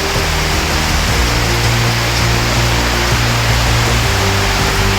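Dense, steady roar of heavy typhoon rain pounding nearby on a hut, broad and continuous with a low hum underneath, no voices.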